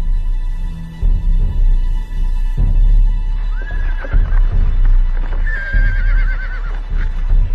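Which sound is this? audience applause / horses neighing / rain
horses neighing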